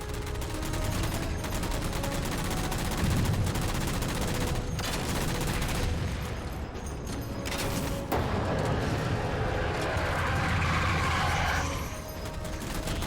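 Gunfire in the video game Halo 4 while shooting down three jammers, sustained rapid shots and bursts with mechanical clanks, loud and continuous with little talk.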